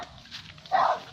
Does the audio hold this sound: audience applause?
no